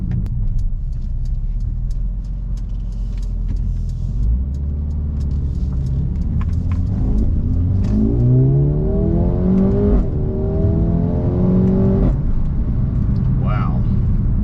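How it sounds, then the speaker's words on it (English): A 2019 Mercedes-AMG A35 sedan accelerates hard, its engine note climbing through rising sweeps with throttle blips at the gear changes and a crackly exhaust over a steady, loud rumble. "the blip down with the throttle when you change gear, and you get the throttle blip and the crackly exhaust"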